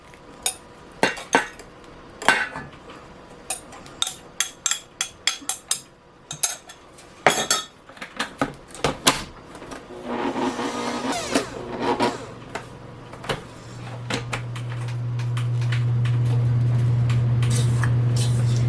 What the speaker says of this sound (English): Just mixing that around just to make sure there's no dry flour left in here.